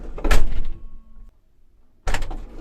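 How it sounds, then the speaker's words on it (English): Camper van sliding door shoved open and then slammed shut with momentum: a loud rolling clatter and heavy thunk, a short quiet pause, then another forceful bang of the door closing. "we open and close the sliding door, and we have to do that with quite a lot of momentum"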